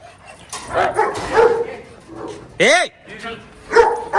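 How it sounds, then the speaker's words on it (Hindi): A dog growls and lets out a short bark-like yelp amid close, lively speech, with the animal sounds coming in brief bursts between the voices. "खड़क सिंह, हाँ वो गुर्रा है, वो ठीक है।"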